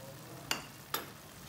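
Beef korma with korma masala being mixed in a pan, two short sharp spoon scrapes against the metal over a faint low sizzle, close and quiet.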